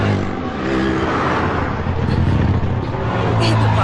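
Road traffic rumbles close by, a dense, continuous engine drone with cars idling and revving, mixed with indistinct voices.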